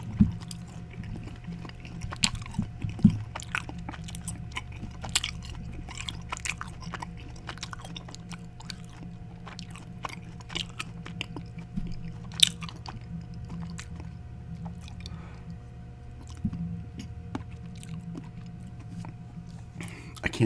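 Close, soft chewing of Mike and Ike chewy candy in an ASMR setting, steady wet squishing and crunching with small sharp clicks scattered throughout, faint and intimate with no talk.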